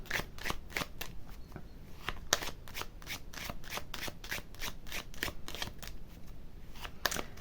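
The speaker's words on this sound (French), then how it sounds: "On prend encore une carte." Tarot cards are shuffled by hand in a quick, steady run of crisp riffling rubs that repeat through the whole stretch, close and clear with no voices.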